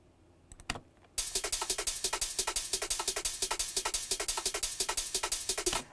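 Hi-hats tick rapidly in a shuffling electronic drum pattern, a dense, bright, evenly pulsing stream that kicks in after a few sparse hits and runs steadily to the end.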